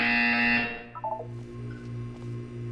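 A buzzer sounds in a Portal 2 test chamber, a loud, steady electronic tone lasting about half a second before cutting off, followed by a few short blips and a low hum.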